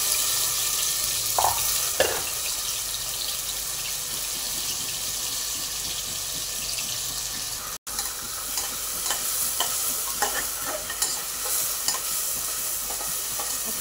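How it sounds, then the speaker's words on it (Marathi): Ground wet masala paste sautéed in a pan for a horse gram usal, giving a dense continuous sizzle with occasional scraping stirs and a brief dropout midway, with no voices. "हे वाटण चांगलं आपण परतून घ्यायचं"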